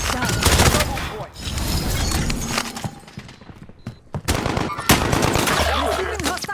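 Gunfire in the shooter game Warzone, with a FAL rifle, dense rapid bursts and heavy automatic shots, loud and close, broken by brief gaps and crashes, with game voice callouts heard faintly.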